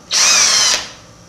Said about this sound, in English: Now I take this, I drill a hole